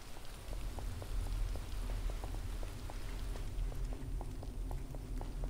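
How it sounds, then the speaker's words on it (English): Steady rain falls outdoors in the video game Dead Island, a continuous hiss of rain with individual drops spattering on surfaces, plus a low rumble underneath, faint and even, with no voices. "why in the world is it raining outside?"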